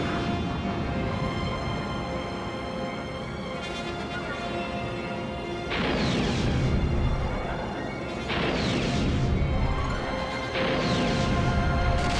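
Missiles launched at turrets in Star Wars Rogue Squadron II: Rogue Leader on GameCube: three loud booming blasts with rushing swells, each rising out of a steady engine and music bed.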